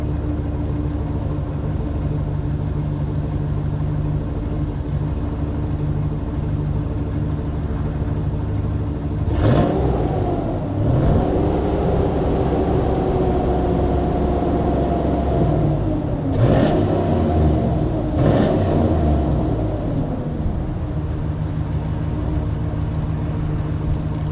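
A truck engine with a Black Widow 250 exhaust idles with a steady drone, then revs up twice in rising surges before settling back to idle.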